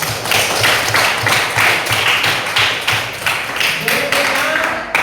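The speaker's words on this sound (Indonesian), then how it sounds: "Kita beri tepuk tangan untuk kelompok 1." A classroom of students claps for a presenting group during a school lesson, the applause coming in loud, rhythmic bursts of roughly even beats that fade near the end as a voice begins speaking.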